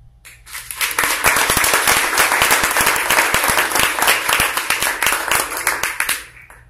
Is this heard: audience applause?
yes